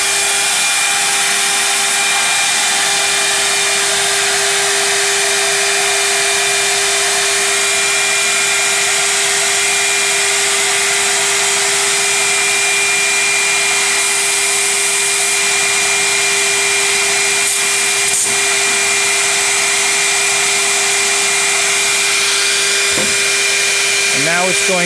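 A BAM CNC stair router cuts a 1/4 inch deep pass into 24 inch stair stringers, giving a steady, loud, continuous high-pitched whine with a constant tone, broadband noise throughout and a few brief sharper changes near the end.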